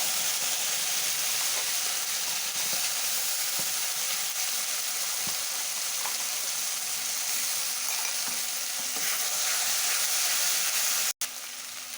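Ground tomato paste frying in a pan with oil and being stirred, giving a steady loud sizzle and hiss with soft scraping throughout, ending in an abrupt cut.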